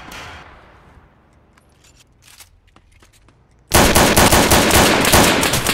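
Tec-9 machine pistol fire in the South London 2 video game: a faint tail and scattered clicks, then a sudden loud, continuous burst of rapid automatic shots up close.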